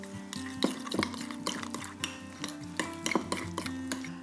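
A spoon scrapes and clinks around a bowl as gherkins are stirred into chunky mayonnaise, a steady rhythm of soft knocks and scrapes, close and quiet with no talking.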